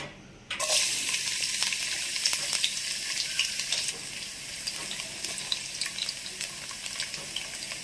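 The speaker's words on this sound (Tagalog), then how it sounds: "Lalagay ko na po yung bawang" Garlic hits hot oil in a pan and bursts into a loud, steady hiss of frying that settles into a continuous sizzle with small crackles, close up and alone.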